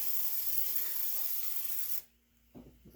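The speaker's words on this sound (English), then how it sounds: "I'm going to spray them with just a little bit of vegetable oil here." Vegetable oil sprayed from a can onto riblets before they go into the oven: a steady, close hiss lasting about two seconds, then cutting off, followed by a faint clatter.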